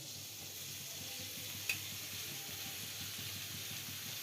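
Banana flower frying in hot oil gives a steady, even sizzle with a constant hiss and no voices, and one small click partway through.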